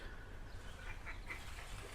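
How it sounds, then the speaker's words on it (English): A couple of ducks flying in, faint quacks and calls rising a few times over a steady low background hum, fairly distant and brief. "a couple of noisy ducks fly in, but oh, and fly off again"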